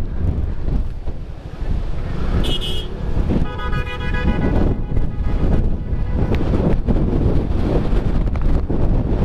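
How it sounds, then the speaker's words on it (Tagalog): Strong wind buffets the microphone throughout a year-end motorcycle ride near Malico, San Nicolas, a loud continuous roar with engine and road noise beneath and a brief horn-like tone partway through. "Lakas ng hangin"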